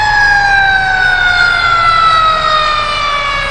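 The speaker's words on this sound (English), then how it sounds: "And there's a fire truck." A fire truck's siren wails loud and close, its steady rising and falling tone filling the whole stretch with no voices over it.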